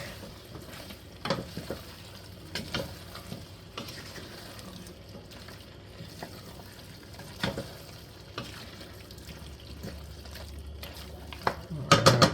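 Beef stew in a pot as browned meat and its juices are stirred back in, with soft sizzling under irregular scraping and knocking of a spoon against the pot, and a louder clatter at the end.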